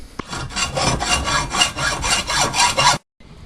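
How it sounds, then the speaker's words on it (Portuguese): Hand hacksaw cutting grooves into a metal pipe, giving a steady series of about ten rhythmic rasping back-and-forth strokes, close and fairly loud, that stop abruptly before a brief quiet tail. "Então depois você faz essas cavas de um lado e do outro com arco de serra."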